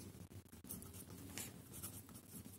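Chalk or marker scratching steadily across a board as a perfect conducting sheet radiating energy is written up during an antenna lecture, a continuous close scraping texture with brief pauses and no talk.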